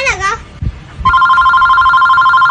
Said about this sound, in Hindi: तेरे पापा के पास फोन लगाता हूँ